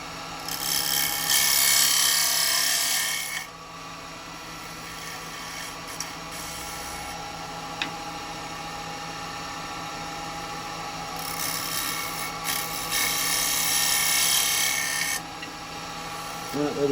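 A carbide detail chisel cuts an Umbilo wood bowl on a lathe over a steady motor hum, with two long hissing cutting passes at the start and end and a quieter stretch between them.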